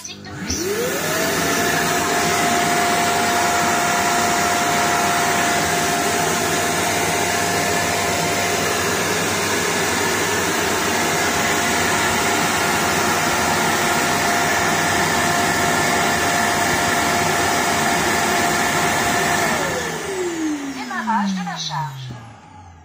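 An EZVIZ RE5+ robot vacuum whirs loudly and steadily, its motor tone rising at start-up, holding level, then winding down at the end.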